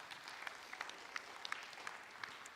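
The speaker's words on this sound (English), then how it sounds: "If we could give her a round of applause." Quiet, sparse clapping from a small audience at an evening speaker event, a handful of distinct claps scattered over a faint background, distant and brief.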